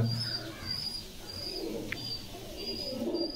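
A pigeon coos softly a few times against a quiet outdoor background, with faint chirps from other birds.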